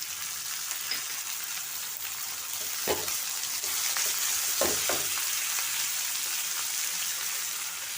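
Tomatoes, peas and other vegetables sizzle on a hot tawa for street-style tawa pulav, a steady frying hiss throughout, with a few sharp scraping stir strokes near the middle.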